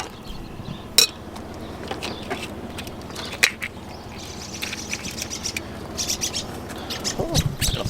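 Birds chirp and squabble outdoors on a farm during planting, with sharp calls and a few sudden bursts of flapping over a steady rustling background.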